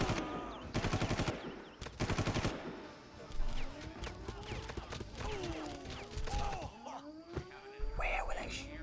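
Enemy gunfire in the shooter game Far Cry 1: bursts of rapid automatic fire in the opening seconds, then scattered shots and whooshing combat effects over a dense game soundscape.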